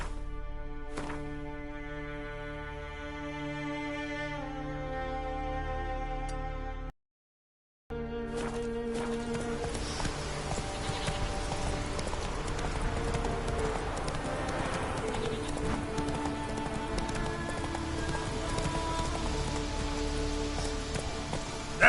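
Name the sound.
horse Roach trotting in rain, from video game The Witcher 3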